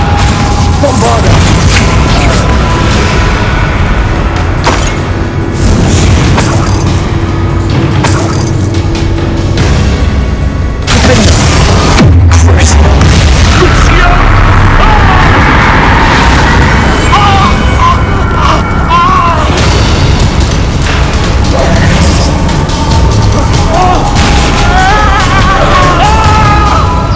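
Repeated Bombarda blasting spell explosions in the Hogwarts Legacy video game, loud booming blasts and crashes mixed with shouted spell voices and dense game effects throughout.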